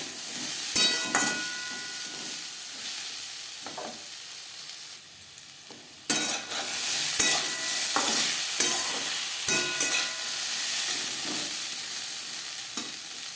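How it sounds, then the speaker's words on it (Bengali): Potatoes stir-fried with salt and turmeric in a pan, a steady loud sizzle broken by repeated scraping and clinking strokes of a spatula, with a brief quieter lull midway before the frying hiss returns. "লবণ হলুদ আলুর সাথে বেশ ভালো করে মিক্স করে দেবো"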